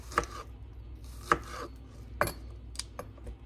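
Kale and mixed vegetables being roughly chopped with a knife on a board for soup, a few sharp, separate thumps spaced about a second apart, close and moderately loud with no talking.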